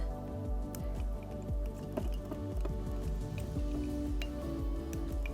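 A watery mix of glue and water is stirred and squished, giving continuous wet sloshing and dripping with scattered small ticks, close and steady throughout.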